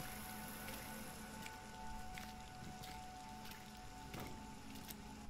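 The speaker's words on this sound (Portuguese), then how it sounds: "vamos dar uma olhada aqui na chuva, né?" Rain in the Resident Evil 2 Remake video game: a steady, soft hiss of falling rain with faint patters and drips, low and constant, with a faint hum underneath and no voices.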